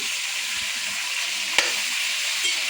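Chicken sizzles and fries in a pan with a steady hiss, with a sharp scrape of stirring midway and a fainter one near the end.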